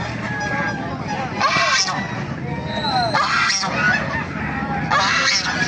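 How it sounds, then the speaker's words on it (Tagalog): Geese honk loudly in repeated bursts amid a busy background of crowd chatter and other fowl noise at an animal market in Baliuag, Philippines. "Napakaraming gansa oh."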